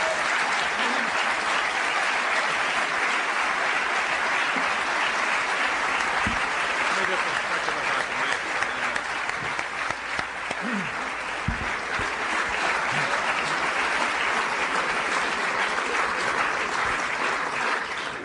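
A forum audience gives a long round of applause, dense continuous clapping from a large crowd that stays loud and even for the whole stretch.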